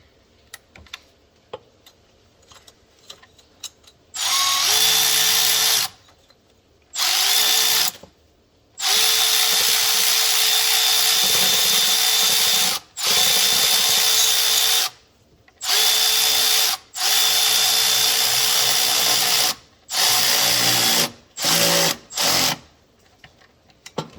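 A power drill or impact driver tightens a fastener while a rebuilt GTP38 turbo is installed on a Super Duty, running in about nine loud, separate bursts of a few seconds each with short pauses between them.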